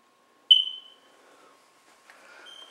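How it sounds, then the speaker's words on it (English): A smoke detector in a Royal Palm Beach, Florida townhome gives a single sharp, high low-battery chirp that rings briefly and fades in a quiet room, followed by faint indoor rustling. "That chirping is the low battery on the smoke detectors"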